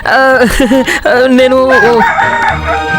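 A man loudly imitates a rooster's cock-a-doodle-doo crow up close, a drawn-out warbling call lasting a few seconds, with a brief spoken word at the start.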